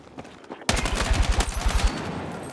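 Gunfire in the video game Battlefield 6 breaks out in a dense burst of rapid automatic shots, loud and close, after a quieter opening.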